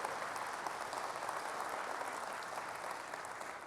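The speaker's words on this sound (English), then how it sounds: "please, round of applause for the great work there" Sustained applause from a large audience at Sony's E3 2006 press conference, a dense, even wash of clapping throughout.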